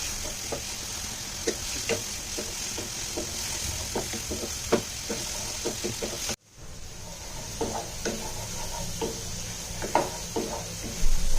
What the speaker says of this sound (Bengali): শুটকি দেবার পর ভালোভাবে কিছু সময় ভেজে নিয়েছি।